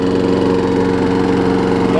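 A Craftsman self-propelled lawn mower with a bag runs steadily with the throttle down, its small engine producing a loud, even, close-up drone and rhythmic pulsing throughout.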